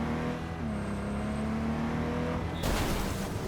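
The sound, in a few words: car driving in a video game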